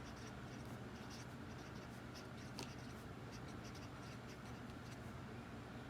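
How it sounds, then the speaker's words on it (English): Pen or marker on paper while a chart is written out by hand, faint soft scratching strokes in irregular bursts over a low steady background hum, close but quiet. "So we should just go ahead and write this chart."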